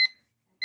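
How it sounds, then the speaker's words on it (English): A short electronic alarm clock ring, two bright bursts of tones separated by a brief silence, fairly close and clear. "That was the alarm."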